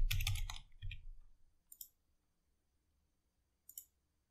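A few clicks on a computer keyboard at a login prompt in a quiet room: a quick cluster of taps at the start, then two short isolated clicks after long gaps.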